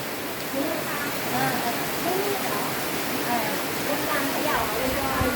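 Steady rain pours down around a group sheltering outdoors before a meal, a dense continuous hiss with faint voices talking beneath it.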